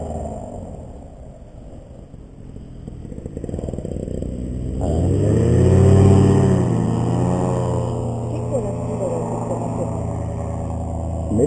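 A motorcycle-like engine at a training session idles low and rough, then revs up into a rising whine that peaks and holds at a steady higher pitch, fairly close and loud, without talk.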